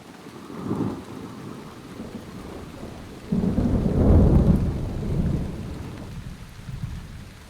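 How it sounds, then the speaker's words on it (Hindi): Heavy rain falls steadily while low rumbles of thunder roll through, swelling loudest midway and fading; no voices, just the storm's continuous wash and deep booms. "बारिश अभी बड़ी तेज़ है"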